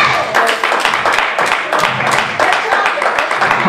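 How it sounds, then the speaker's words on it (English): A church congregation claps their hands together in a fast, steady rhythm, loud and close. Voices mix in under the clapping. "clap your hands all over the house and bless his name"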